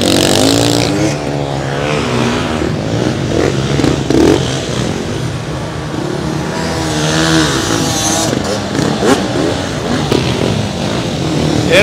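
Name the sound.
racing motorcycles passing at the GURP TT Grayan race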